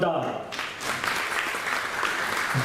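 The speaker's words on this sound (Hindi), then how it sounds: "जोरदार तालियां" An audience breaks into loud, sustained applause at a performance event, steady clapping filling the whole short stretch with no pause.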